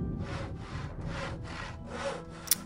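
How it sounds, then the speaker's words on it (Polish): Wood being sawn in the game Gothic II: five rhythmic back-and-forth saw strokes, evenly spaced and rasping, followed by a short sharp click at the end. "To możemy popiłować drewno."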